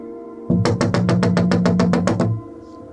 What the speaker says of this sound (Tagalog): bigla siyang binulabog ng isang malakas na pagkatok sa kanyang pintuan